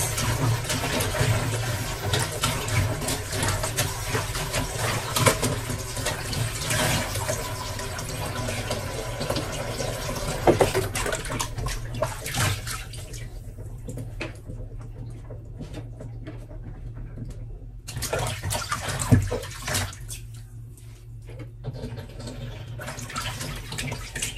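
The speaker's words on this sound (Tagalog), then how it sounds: "yung ating mga gulay na galing sa palengke ay marami pong mga alikabok yan. Kaya kailangan natin hugasan ng 2 beses." Market vegetables are washed under a running kitchen tap, with water splashing and gushing for long stretches, broken by brief lulls and handling clatter, close and with no speech.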